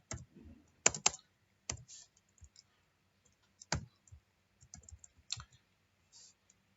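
Microcontroller code being typed on a computer keyboard: scattered bursts of close, crisp key clicks with irregular pauses, quiet overall, no talking.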